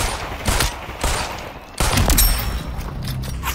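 Gunfire in the VR battle game Population: One, with several bursts of rapid shots and single cracks, some near and loud, others farther off, and no talk over them.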